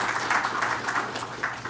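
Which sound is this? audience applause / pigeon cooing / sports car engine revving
audience applause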